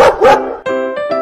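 A dog gives two quick barks, then a pair of higher whining yips, all close and loud in a short burst.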